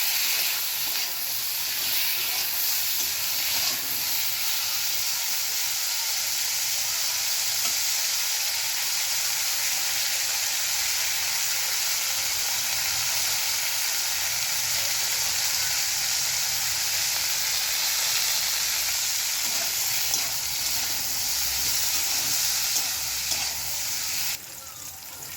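Sliced pointed gourd (potol) fries in a pan, a steady, fairly loud hiss of sizzling oil that carries on without a break, with no talking.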